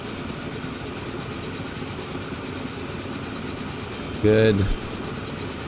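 A train in the game Transport Fever 2 rolls steadily into a station with a constant rumbling drone, and a short spoken word cuts in near the end.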